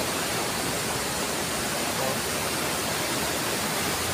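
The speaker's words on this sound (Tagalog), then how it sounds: "Malakas na yung tubig." Strong rushing water on a trip to a stone hill, a steady loud broadband roar like a waterfall or torrent that stays constant throughout with no talking.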